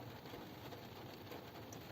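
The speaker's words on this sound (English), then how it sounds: "It's dreary and rainy out." Rain falls steadily outdoors on a dreary day in North Carolina, a dense, even hiss that is faint and far off, with no talk.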